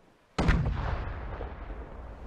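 A ship's cannon fires in the Sail VR pirate game: one sudden loud boom after brief quiet, followed by a long rumbling decay.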